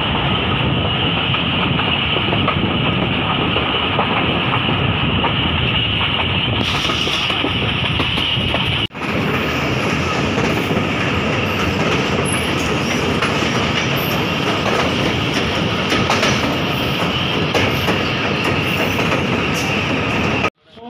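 A train at Lahore railway station rumbles steadily up close, with continuous clickety-clack of wheels on track and a brief squeal, loud and sustained throughout with no speech.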